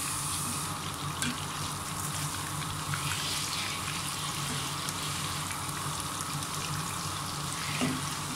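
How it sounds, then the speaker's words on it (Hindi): Masala-coated fish shallow-fries in a pan and is flipped to its other side. A steady broadband sizzle runs through the whole stretch, with faint clinks and no speech over it. "ये देखें एक साइड से हो गई है फिश अब मैं दूसरी साइड इसकी पलटने लगी हूँ"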